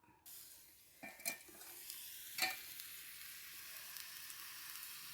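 Chana dal vada batter dropped into hot oil in a pan, giving a steady close sizzle with a few sharper spatters and clinks as pieces go in.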